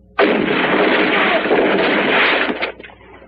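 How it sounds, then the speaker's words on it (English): A firing squad's rifle volley in a 1972 western film: one loud sustained blast of roughly two and a half seconds that starts abruptly and then cuts off, heard alone. "Load rifles. Ready. Aim. Fire!"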